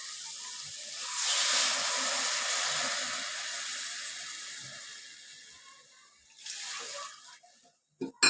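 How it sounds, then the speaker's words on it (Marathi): A stream of water pours into a cooking pan and hisses steadily for several seconds, tapering off, then a short second pour and a couple of clanks. "याला दोन वाटी पाणी घालणार आहे बघा"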